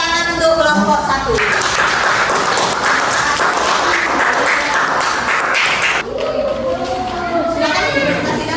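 A school class claps enthusiastically for a student group, loud dense applause lasting several seconds with children's voices before and after.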